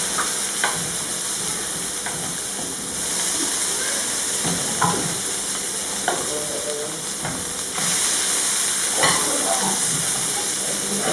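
Quinoa vegetarian patties with egg sizzle steadily in a hot pan, a constant loud frying hiss with occasional clicks and scrapes of a utensil as they are handled.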